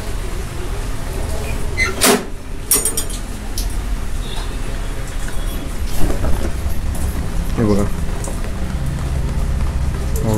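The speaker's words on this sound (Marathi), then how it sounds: "आता तुम्हाला बाहेरचा पाऊस दाखवतो मी" Rain falls outside with a loud, steady rush, sharp clattering hits, and a brief thunder-like rumble. Someone speaks a couple of words over it.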